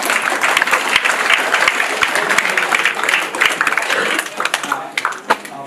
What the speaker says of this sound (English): Sorry, round of applause for Robin, please.